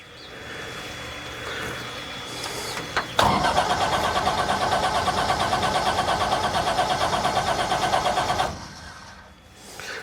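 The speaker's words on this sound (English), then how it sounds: "I hit the starter." A Sonex homebuilt aircraft's AeroVee turbo engine cranks on its starter, a steady rapid churning that begins abruptly with a sharp click and runs loud for several seconds before cutting off, with no catch.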